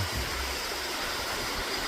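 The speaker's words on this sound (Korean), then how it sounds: "대갈래 폭포가 흘러내리고," A winter waterfall pours down a rocky valley beside Pyochungsa temple, its steady, dense rush of water filling the air close by without a break.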